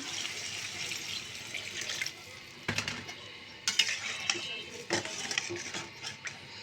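Water is poured into a cooking pan holding fried eggplant for a roe-filled gulsha fish curry, with uneven splashing and pouring and some clinks of utensils.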